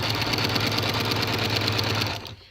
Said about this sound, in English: and you're just going to start sewing.